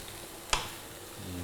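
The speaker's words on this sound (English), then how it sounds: "You hear all that sizzling." Apples frying in a pan give a low, steady sizzle with one sharp click or clatter partway through, close and moderately loud, and no voices over it.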